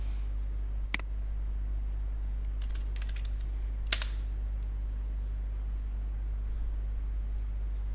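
Keys clack on a computer keyboard as a ping command is typed at a command prompt, a few sparse sharp clicks and a short quick burst over a steady low electrical hum.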